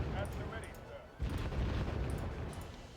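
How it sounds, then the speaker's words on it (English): Mortar fire in the Wargame Red Dragon strategy game, a dense rumbling barrage of booms and bursts with a heavier impact partway through, under game ambience and a speaking voice. "There's the mortars."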